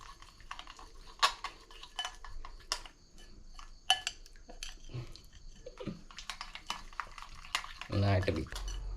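Butter being beaten in a bowl for bun maska, with irregular clinks and scrapes of a utensil against the bowl close by, mixed with soft handling noises and some talking.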